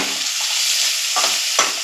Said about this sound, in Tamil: அதுக்கப்புறம் தக்காளி சேர்த்து வதக்குங்க.